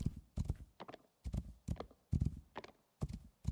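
Horse hooves clip-clopping in the building game Rising World, a steady run of close, hollow hoof beats in quick uneven groups with short pauses between them, and no talk over them.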